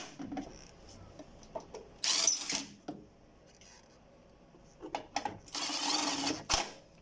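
An 18-volt DeWalt impact wrench removes engine support bolts on a 2011 Toyota Corolla Altis, giving two loud bursts of rattling hammering amid scattered clinks and handling noises.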